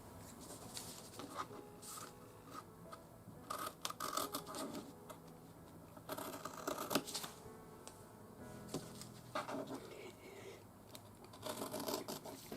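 Scissors cutting through pillow fabric, with a quiet, close run of irregular crisp snips and rustles coming in clusters over several seconds and no voice.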